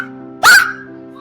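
A child imitates a dog barking, giving a single short, sharp bark-like yelp voiced aloud, loud and close, set against a faint steady background hum.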